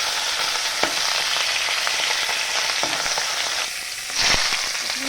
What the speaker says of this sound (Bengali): আমি প্রথমে ওই খোকা ইলিশ মাছগুলোকে ভেজে নিচ্ছি